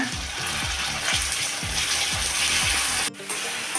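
Chopped onion and tomato frying in oil in a pan for a spinach and coconut curry, a steady loud sizzle with rhythmic scraping strokes of a spatula about every third of a second, briefly dipping near the end.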